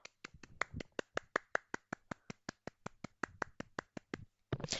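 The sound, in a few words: people clapping hands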